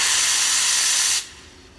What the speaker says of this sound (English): I'm gonna end this video by doing a couple more steaming milks